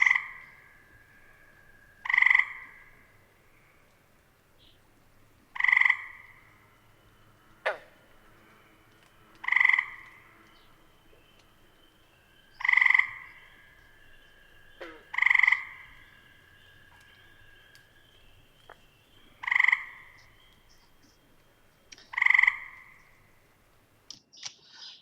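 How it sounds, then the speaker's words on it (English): Eastern gray tree frogs trill in a late-season multi-species chorus, seven or eight loud, evenly spaced bursts standing out clearly, with a green frog chucking faintly behind them and a few clicks scattered between. "The main one that you could hear there was the eastern gray tree frog, but there was also a green frog chucking in the background a little bit"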